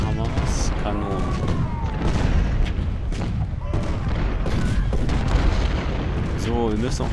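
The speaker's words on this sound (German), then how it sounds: "Da haben wir was. Kanonen." Cannon artillery fire in the Civil War strategy video game Ultimate General: Civil War at Gettysburg, repeated booming volleys and rumbling gunfire layered with battle noise and faint shouting throughout.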